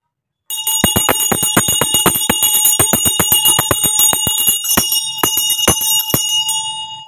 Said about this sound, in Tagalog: Ang paggamit po ng bell ko na to ay isang uri ng pagbasag